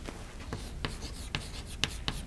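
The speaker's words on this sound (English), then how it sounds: "Let me write it down." Pen or marker strokes on a board during a university lecture, a series of close, crisp scratchy taps and short swipes in an uneven rhythm, with no talk over them.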